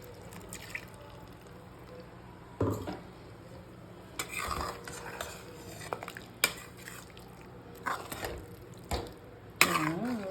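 Bitter gourd kulambu made with ground coconut and tamarind being stirred in a pot: intermittent scraping and clinking of a spoon against the metal, with soft liquid slops, moderately close, no talk.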